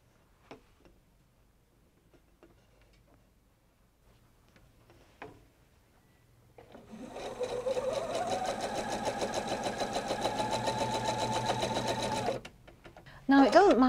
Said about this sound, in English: Now the last corner square of the block.